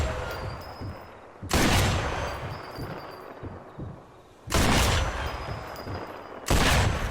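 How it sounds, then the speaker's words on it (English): Three heavy, booming rifle shots from a semi-automatic GUR 43 in the Sniper Elite 4 game, fired at a close 10-yard target, each a loud blast with a long decaying tail, spaced about three seconds apart over faint background ambience. "let's just wear out these last shots with max zoom shots on this 10-yard target"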